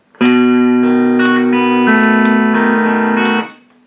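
An electric guitar plays a blues fingerpicking pattern in E. Bright, sustained picked notes and chord changes ring out loud and close for about three seconds before cutting off.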